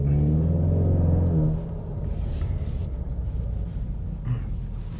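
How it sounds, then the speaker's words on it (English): A 2020 Ford Mustang EcoBoost 2.3L four-cylinder engine rumbles steadily, revving higher at first then settling into a lower, continuous drone, heard up close with no talking. "It sounds really good for a 4-cylinder engine"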